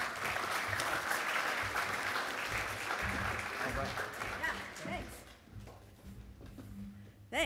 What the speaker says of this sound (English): let's give a round of applause for Lynne